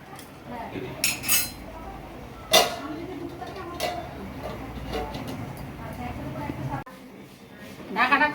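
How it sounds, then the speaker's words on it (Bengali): A metal lid goes onto a cooking pot in a home kitchen, with a few sharp clanks and clinks of metal cookware over a low background, plus a later clatter. "এবার ঢাকা দিয়ে দেবো।"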